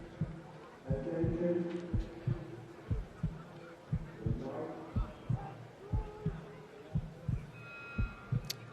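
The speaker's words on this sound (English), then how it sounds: "You can hear the heartbeat as the crews get themselves ready" A heartbeat sound effect thumps in a slow, steady double-beat rhythm as rowing crews line up for the start of an under-23 world championship race, with quiet commentary and low background tones under it.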